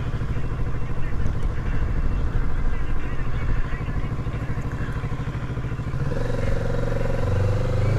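A Kawasaki Z650 motorcycle is ridden on a test ride, its engine a continuous steady drone with a rising tone near the end as it accelerates, heard close up with wind noise.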